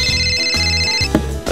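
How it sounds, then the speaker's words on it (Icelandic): A phone's SMS text message alert tone rings out in a series of bright, melodic beeps, loud and close, with no talking over it. "SMS."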